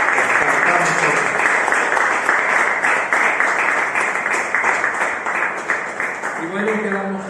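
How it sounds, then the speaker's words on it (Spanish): A Spanish-speaking church congregation claps loudly and continuously through a worship service for about seven seconds, with a voice starting to speak over the applause near the end. "Vamos a darle un aplauso fuerte a Jesús."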